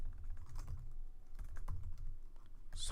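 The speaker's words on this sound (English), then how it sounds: "Sorry, my typing is bad." Clattering keystrokes on a computer keyboard, an uneven run of quick clicks and taps at close range with no voices, as someone types out Java code.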